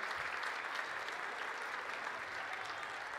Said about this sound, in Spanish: Hace bien aplaudir.